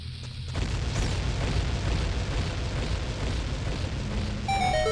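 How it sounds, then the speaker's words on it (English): A chain of bomb explosions in Zelda: Ocarina of Time makes a sudden loud boom that swells into a sustained, rumbling roar and holds for several seconds, ending with a short chime. "You can put a bomb down here in the middle, and it'll blow up all the bombs"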